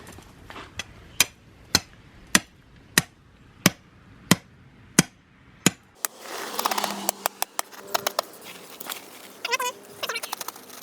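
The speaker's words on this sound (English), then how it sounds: "I'm going to give it some persuasion by loosening up the ground, hopefully." Ground being loosened to set a landscape lighting stake: about ten sharp, evenly spaced strikes ring out close, followed by rougher scraping and rustling digging noises.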